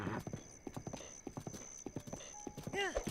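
Horse hooves clip-clop in a steady trotting rhythm in the video game Zelda: Breath of the Wild, close and clear, with a brief neigh near the end and someone talking over it.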